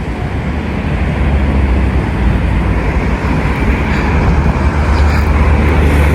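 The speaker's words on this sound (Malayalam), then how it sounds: "ഇത് ഇവിടുത്തെ ഒരു ട്രെയിനിനാണ്." A loud, steady rumble of a train rolling past close by in Tashkent, Uzbekistan, a continuous low roar with no pauses.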